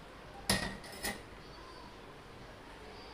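A metal pan is set down on a kitchen stove before cooking chicken for biryani, giving two sharp clanks about half a second apart over a quiet room hum.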